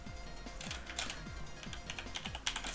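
Steady keyboard typing on a computer during a game-development work session, a quick run of soft key clicks continuing through the whole stretch with one sharper keystroke near the end, heard close and alone.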